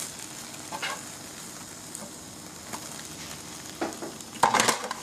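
Crepe batter sizzles softly in a non-stick pan, a low steady hiss with a few brief clatters and scrapes near the end as the crepe is flipped.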